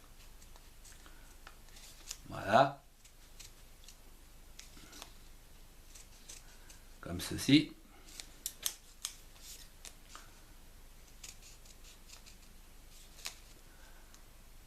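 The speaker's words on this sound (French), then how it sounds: "Donc vous réalisez les encoches comme ceci avec une paire de ciseaux." Paper snipped with a pair of scissors to cut notches for a 3D white paper origami Christmas tree, two distinct cutting bursts a few seconds apart, followed by faint ticks and light handling noise, with a brief word spoken.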